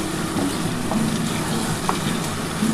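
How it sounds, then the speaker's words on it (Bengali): Chicken frying in a pan with sour yogurt and spices, a dense steady sizzle with a few light stirring knocks, close and alone. "এবার এই টক দইটার সাথে মশলা যা যা দিয়েছি সব কিছুর সাথে ভালো করে একটু নাড়াচাড়া করতে হবে।"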